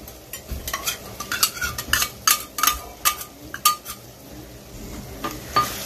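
Ginger garlic paste frying with golden brown onions in a pan for paneer masala, stirred with a metal spoon that scrapes and clinks repeatedly in an irregular rhythm over a soft sizzle, close and clear.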